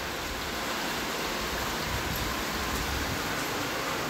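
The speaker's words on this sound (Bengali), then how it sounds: "আর দেখো কি পরিমাণ বৃষ্টি নেমেছে সকালে" Heavy morning rain falls steadily, a dense, even hiss of downpour with no breaks, wetting a balcony and windows.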